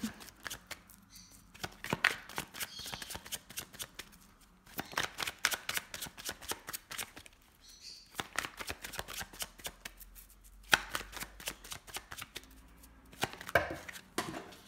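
Tarot cards are shuffled in repeated riffling bursts with short pauses between, soft and close, no talking.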